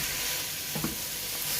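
Chicken samosa filling with chopped coriander and green chilies sizzling in a pan as it is stirred, a steady soft frying hiss with a couple of brief scraping stirs, fairly faint, no talking.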